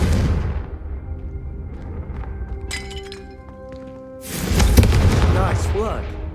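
A Confringo fire spell in the Hogwarts Legacy game: a sharp magical crack with ringing tones, then a loud fiery explosion bursting near and rumbling away.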